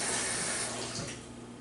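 Hot water poured into a pot of beef stew, a steady splashing, hissing pour close by that eases off slightly toward the end, with no talking.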